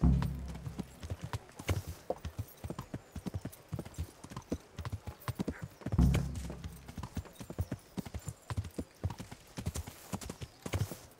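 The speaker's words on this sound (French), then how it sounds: "Ah, je peux appeler mon cheval." A horse galloping in the video game Kingdom Come Deliverance: rapid, rhythmic hoofbeats clopping steadily throughout, close and crisp, with a brief neigh-like swell around the middle.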